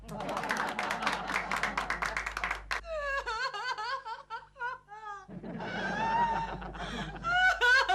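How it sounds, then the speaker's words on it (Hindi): Clapping from a group in a sitcom scene fills the first few seconds, then gives way to giggling and laughing voices before the clapping returns more loosely near the end. "तालियां"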